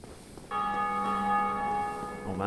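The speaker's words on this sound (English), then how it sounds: "Someone just rang the bell." A bell rings out in the Dark Souls video game, a sustained metallic tone with long ringing overtones that holds steady, followed by a second strike near the end; no voices are heard.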